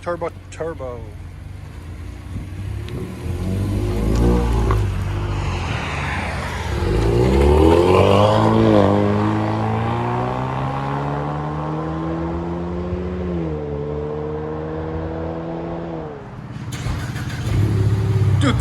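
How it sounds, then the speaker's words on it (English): A 2018 Ford Mustang with the 4-cylinder EcoBoost turbo engine and straight-pipe exhaust revs loudly up through a rising, swelling engine note, then settles into a sustained drone before dropping off, with a voice speaking faintly beneath. "2018 Mustang, 4-cylinder turbo."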